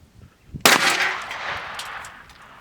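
A custom-made shotgun fires a single slug at a rusty iron plate, giving one sharp, loud blast that decays over about two seconds after a short quiet lead-in.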